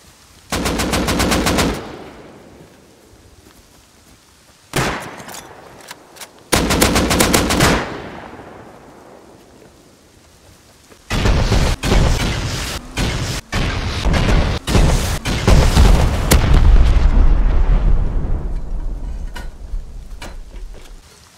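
Rust game gunfire comes in several bursts of rapid automatic shots, loud and close, separated by quieter gaps, with a long sustained stretch of heavy firing and booming impacts toward the end.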